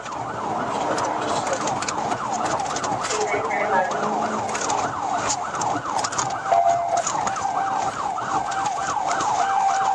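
A wailing siren cycles up and down continuously and loudly, with traffic rumbling beneath it.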